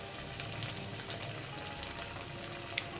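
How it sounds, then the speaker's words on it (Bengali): Chicken pakora batter frying in hot oil over a medium flame, giving a steady, soft crackling sizzle that runs the whole time, fairly faint and with no talking. "এবার এর মধ্যে থেকে অল্প অল্প করে পোর্শন নেব আর এইভাবে তেলের মধ্যে ছেড়ে দেব।"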